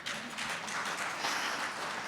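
An audience at a health summit on kidney disease disparities applauds in a steady, fairly distant wash of many clapping hands, with no talk over it.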